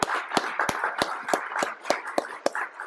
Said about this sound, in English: let's have a round of applause for the young people in the back